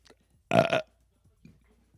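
A single short, loud, close burp comes from a person watching a Bills versus Jets football game, with only faint background noise around it.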